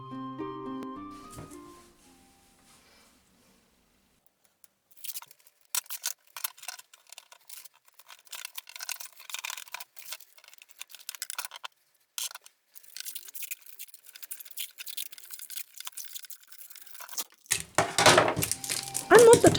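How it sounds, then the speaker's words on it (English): Adhesive tape is pulled and wrapped around a craft hoop in irregular crackly, ripping bursts, loud and close. Quieter stretches fall between the bursts, and a fuller crinkling flurry comes near the end. "I admit that I find that tape noise very satisfying somehow"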